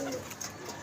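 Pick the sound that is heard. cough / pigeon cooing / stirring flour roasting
pigeon cooing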